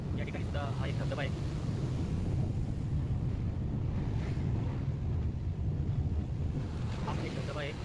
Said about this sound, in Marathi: हा एक या ठिकाणी छोटासा धबधबा आहे.